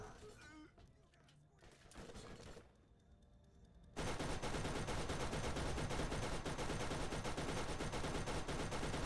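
Turret gunfire in the video game Borderlands: after a stretch of mixed sounds and talk, a dense, loud, continuous stream of rapid shots takes over and keeps going without a break.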